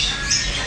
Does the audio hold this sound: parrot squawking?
yes